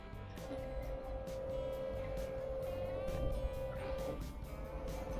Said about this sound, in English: Now we know the pump is pumping.